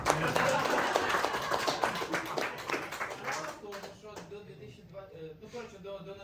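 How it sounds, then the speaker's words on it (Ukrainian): A short burst of clapping comes from an audience during a casual talk show, close and lively at first, then thinning out and fading into quieter room sound with a few scattered claps. "Тут оплески."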